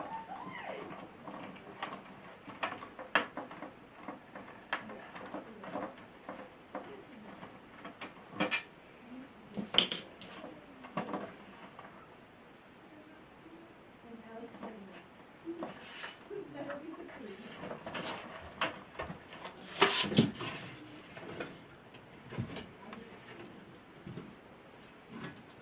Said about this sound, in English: Finish up the last of the Allen screws.